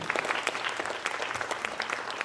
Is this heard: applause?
yes